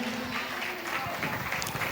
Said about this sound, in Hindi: एक बार उस बहन के सम्मान में भी जोरदार ताली बजा दें